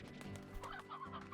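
Chickens cluck in a video game, a quick run of soft clucks and short murmuring calls from nearby birds, fairly faint and uneven in rhythm.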